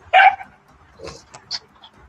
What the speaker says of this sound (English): You hear the dog bark out of nowhere?